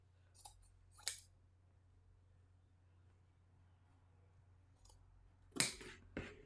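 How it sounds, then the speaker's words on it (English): Scissors snip through the edge of a T-shirt in a few short, crisp bursts, two early cuts, a pause, then a louder pair of close snips near the end over a quiet low hum. "we're gonna cut this edge"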